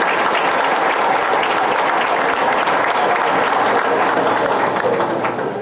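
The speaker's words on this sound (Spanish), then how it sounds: "Un aplauso entonces." An audience at a Nicaraguan government event on a culture of peace and dialogue claps steadily and loudly for the whole stretch, a dense, even wash of applause with no break.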